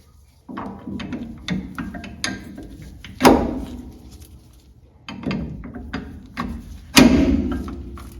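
Ratchet snugging a Wilwood brake caliper during a drum-to-disc brake conversion: repeated close clicking and metallic rattles in two bursts, each punctuated by a heavy clunk.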